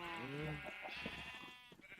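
Sheep bleating in Minecraft, a short wavering bleat from a game sheep, close and clear over faint background sound.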